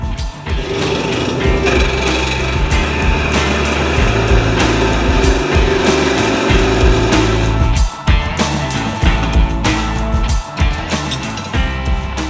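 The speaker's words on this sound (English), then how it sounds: "these clutch forks are really difficult to drill through" A loud, continuous power drill whines and grinds steadily, with a brief dip in the motor's pitch partway before it resumes biting through a hardened steel clutch fork.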